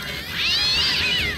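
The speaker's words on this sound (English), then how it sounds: "Those four-ass cats are getting quite pissed off now." Angry cartoon cats meow in South Park: The Fractured But Whole, a single loud, drawn-out yowl that rises and falls in pitch, close and alone with no talk.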